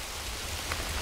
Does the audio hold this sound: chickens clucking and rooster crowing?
no